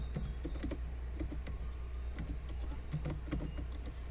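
Keys tapped on a computer keyboard while entering a subheading in a design program, a steady run of light, close clicks with brief pauses and a constant low hum underneath.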